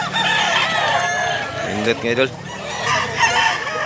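A one-year-plus dark-feathered gamecock crows up close and loudly, followed by clucking from fowl, while someone talks over it.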